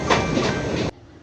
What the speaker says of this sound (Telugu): సో ట్రైన్ అయితే నాయుడుపేట రైల్వే స్టేషన్కి రీచ్ అయ్యి మళ్ళీ డిపార్చర్ కూడా అవుతూ ఉంది